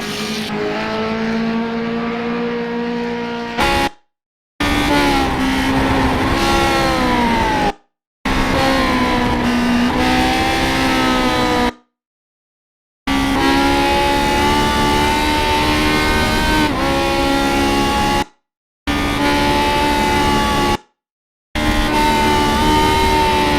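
A Lotus 49 race car in a racing game leaves the pit exit at Indianapolis, its engine droning loud and steady with rising and falling pitch as it accelerates through gears, broken by several abrupt dropouts of silence.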